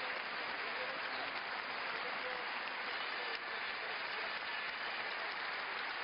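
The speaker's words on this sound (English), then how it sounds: "He thanks the crowd for their support. A standing ovation." Stadium crowd at the de Coubertin Stadium giving a standing ovation after a badminton final at the French Open, sustained dense applause filling the whole stretch at a steady level with no speech.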